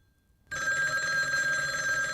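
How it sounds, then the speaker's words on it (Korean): After a moment of quiet, a telephone bell starts ringing abruptly and keeps going, a bright sustained trill as a dramatized sound effect in a mystery story, with no voices. "전화벨이 울린다."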